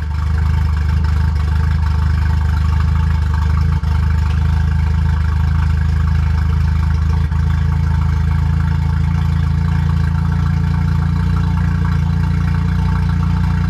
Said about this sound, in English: If I lean it out a little bit and the idle goes up.